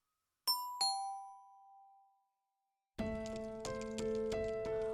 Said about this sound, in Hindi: एक दिन देव के घर की डोरबेल बजती है